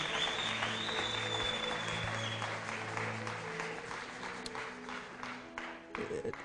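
A church congregation applauds at length during a worship service, steady dense clapping that fades toward the end, with sustained tones from accompanying instruments beneath.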